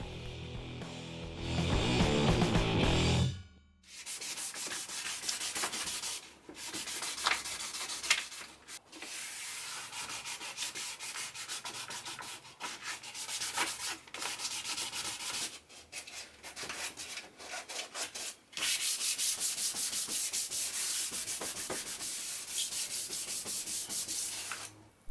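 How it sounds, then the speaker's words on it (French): Wet sanding the bare bodywork of a BMW E46 compact by hand with 500 then 800 grit paper and water, a steady rasping scrub in long continuous strokes with brief pauses, close and alone with no talk. "Je passe maintenant au 500 puis au 800 à l'eau pour finir ma préparation."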